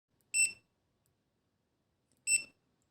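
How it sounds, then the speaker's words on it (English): Two short, high electronic beeps from a WinAPEX 268B clamp meter in continuity mode, spaced about two seconds apart, clear and alone against silence. "In the dialing mode, a signal sounds when the resistance between the probes is less than 50 ohms"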